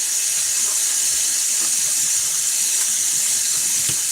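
A kitchen tap runs steadily while food is rinsed in the sink, a loud, continuous hiss of running water with faint clatter underneath and no voices.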